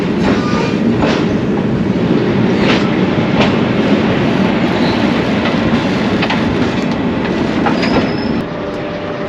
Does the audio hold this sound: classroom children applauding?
no